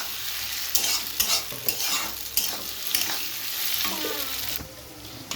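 Marinated soybean chunks fry and get stirred in a wok of hot oil, with a steady close sizzle broken by repeated scraping and clattering strokes of the spatula over about five seconds.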